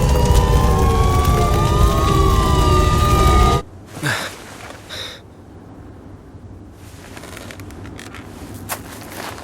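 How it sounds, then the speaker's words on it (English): Wailing sirens in the Silent Hill video game rise and fall loudly for several seconds, then cut off abruptly into a quiet, hollow ambience with a few faint scattered noises. "some familiar sirens invade Travis's head"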